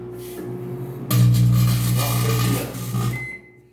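A microwave oven hums steadily as it runs, a loud low drone that starts abruptly and holds for about two seconds before winding down, with no voices over it.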